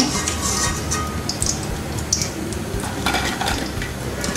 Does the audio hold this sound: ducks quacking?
no